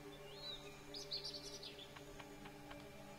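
Parrot in the video game Lego Bricktales chirping a few quick, fairly faint high tweets over steady game music, with a couple of short sharp ticks following.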